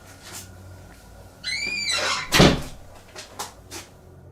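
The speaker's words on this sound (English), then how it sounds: "the demon shuts the door behind him" A door shut in a kitchen during a supernatural haunting, heard as a sharp, loud thud-like bang following a creaky high squeal, then a few fainter knocks and rattles in a quiet room.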